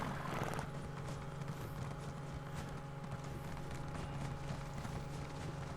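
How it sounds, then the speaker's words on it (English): Hooves of an ordinary riding horse in The Elder Scrolls Online, Vvardenfell, clip-clopping in a steady running rhythm throughout, close and continuous over a dense game soundscape with low droning music. "Our very normal horse."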